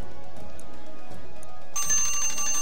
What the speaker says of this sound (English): there's my timer